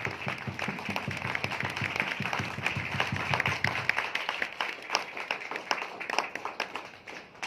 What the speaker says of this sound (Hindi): एक जोरदार तालियों से, धमाकेदार तालियों से उनका स्वागत करें